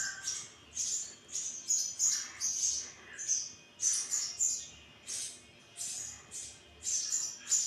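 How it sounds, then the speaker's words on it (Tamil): Sparrows chirping near their nest, a rapid series of sharp, high squawking chirps repeating in quick, uneven bursts, close and fairly loud with brief gaps between calls. "ஒரு குருவி அந்த வீட்டுக்கு போயிடுச்சு"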